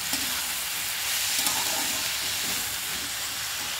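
Leftover roti noodles with a pinch of asafoetida being mixed in a hot pan, a steady hiss of frying under soft, irregular stirring scrapes.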